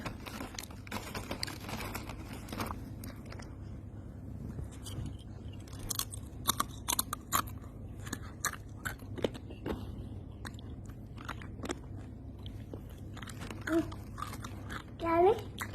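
A child chews crispy fried chicken, making close, crunchy bites and mouth sounds in irregular bursts, with faint speech in the background.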